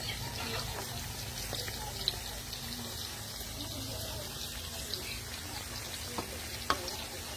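Fresh pork frying in oil in a pan gives a steady, soft sizzle throughout, broken by a few faint clinks and stirring sounds, with a voice speaking quietly at points.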